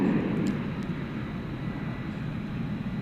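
A FedEx MD-11 jet heading to Memphis produces a distant, steady rumble across an airport, a low, even drone that holds for a few seconds with no voices.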